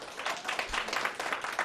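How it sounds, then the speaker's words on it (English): Dense clapping from an audience at a planning commission meeting, a steady burst of applause that fills the short moment without voices over it. "Please hold your applause."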